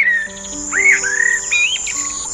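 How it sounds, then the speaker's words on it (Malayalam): Several birds chirp and sing up close, bright rising and falling whistled phrases overlapping in quick succession over a faint steady insect-like hum, with no talking. "എത്രയെത്ര പക്ഷികൾ!"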